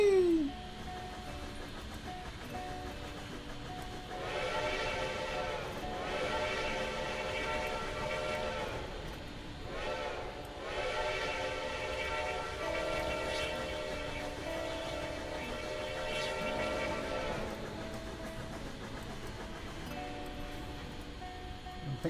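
Steam train in the Railworks game, Winter Northbound run, sounding repeated long whistle blasts over a steady rolling rumble of wagons as it moves to pick up boxcars.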